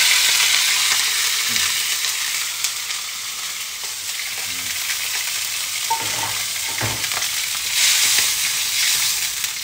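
Tuna frying in olive oil with a steady, loud sizzle and occasional soft stirring clicks from a pan close by, no voices.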